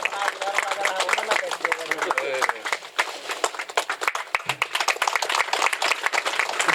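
A crowd at an Ashok Vijayadashami and Mahishasur Shahadat Diwas event in Patna claps in dense, sustained applause while someone speaks over it in Hindi, the clapping continuing steadily throughout.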